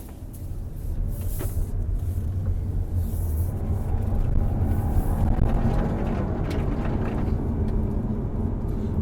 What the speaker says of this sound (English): now you can hear everything in the car that's going on when I drive it.